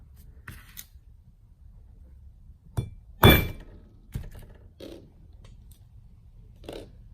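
A hammer strikes steel letter stamps into metal washers for a DIY bracelet: a handful of sharp, separate metallic knocks with quiet gaps between them, one blow noticeably louder than the rest, close and without talk.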